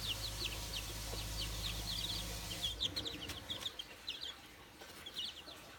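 Several young chicks, one of them gray, cluck and peep in a steady scatter of short high calls, with a low steady hum under the first half. Nobody speaks.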